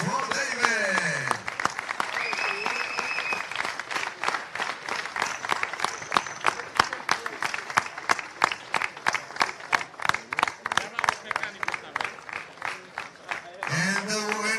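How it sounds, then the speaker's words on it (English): A crowd at a European championship final for 1/8 scale nitro RC buggies cheers and applauds the race winner, with loud sustained clapping across the whole stretch, a voice over the PA at the start and end, and whoops rising from the crowd. "Big cheer for David."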